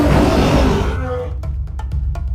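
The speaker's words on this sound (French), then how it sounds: "La jungle entière trembla sous son rugissement." Tiger roaring as Shere Khan in a French telling of The Jungle Book, a loud dramatic roar that fades into quieter rumbling with brief sharp clicks at the end.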